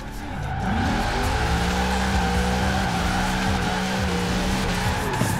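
A Ford Transit van drifting in Forza Horizon 4, its engine droning steadily while the tires squeal in long sustained skids, loud and close with no pauses.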